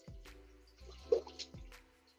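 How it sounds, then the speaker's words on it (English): Water drips faintly in a quiet room, a few soft separate drops landing at uneven intervals. "Y'all hear the water?"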